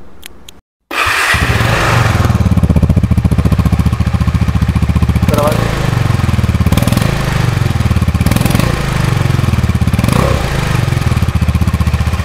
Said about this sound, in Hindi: तो ये इसका एग्जॉस्ट है बेसिकली, ठीक है। और एक जो है मैं माइक इसके एग्जॉस्ट के पास लगा देता हूँ ताकि आपको आवाज़ पता लगती रहे।